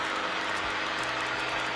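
An Enstrom helicopter taxis across a runway at an airfield, its engine and rotor producing a loud, steady drone throughout, with no voices.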